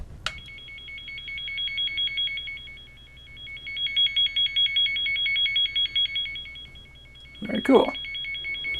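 A BOSSCOMM P180 automotive circuit probe tester gives a steady, sustained electronic signal tone that runs for several seconds and pulses briefly. A person speaks over it near the end.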